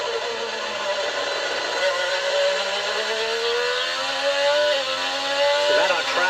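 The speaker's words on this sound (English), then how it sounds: "Just listen to Christian Lundgaard balance the throttle over the bumps here." IndyCar engine aboard a car racing the Long Beach street circuit, loud and continuous, rising steadily in pitch with quick throttle stabs and wobbles near the end as it rides over bumps.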